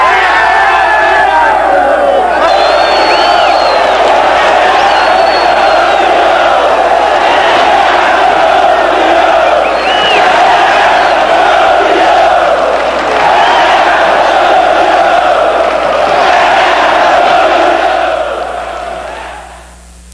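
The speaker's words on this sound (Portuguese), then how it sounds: "No final do jogo, a torcida do Palmeiras não conseguia segurar tanta alegria e soltou um grito que estava preso na garganta há mais de 17 anos" Palmeiras supporters erupt at the end of the 1993 Campeonato Paulista final against Corinthians, a massive stadium crowd roaring and shouting in one loud, sustained wave that barely dips before fading out at the very end.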